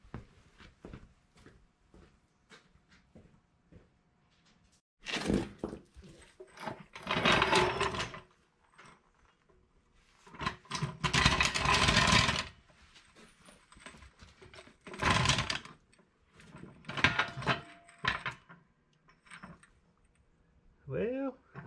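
Bursts of rapid mechanical rattling from an impact tool run the lug nuts down on a wheel of a slammed 1966 VW Beetle, several loud separate runs between quieter pauses, up close in a garage.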